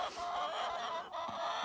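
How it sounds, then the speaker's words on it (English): Chickens clucking steadily at close range, a dense, continuous flock chatter with a brief dip partway through, apparently eager for their morning feed at a farm property. "But the chickens definitely have a desire right now to get some breakfast."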